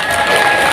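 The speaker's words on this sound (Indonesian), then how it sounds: "Tepuk tangan untuk kita semua" A crowd claps and cheers loudly in a brief, dense burst of applause with no pauses.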